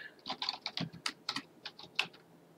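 Close, quiet keystrokes on a computer keyboard as a password is entered, an irregular burst of about a dozen clicks over two and a half seconds, with no talking.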